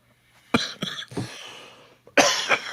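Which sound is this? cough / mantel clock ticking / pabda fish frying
cough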